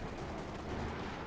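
A 6-pounder anti-tank gun fires on a Panzer IV in Company of Heroes 2, a dense, rumbling burst of gunfire and impact noise filling the whole short moment at steady loudness.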